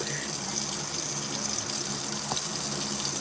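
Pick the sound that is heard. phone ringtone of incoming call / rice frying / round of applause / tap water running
tap water running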